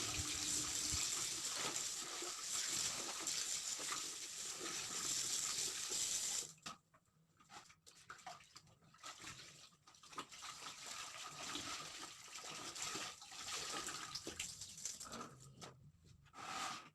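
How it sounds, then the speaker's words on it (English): Water runs steadily from a tap, rinsing soap out of a large teddy bear. A loud continuous gush fills the first six seconds, then breaks into softer, uneven splashing and dripping as the soaked plush is handled. "we will rinse it with clean water thoroughly without leaving any soaps on his body."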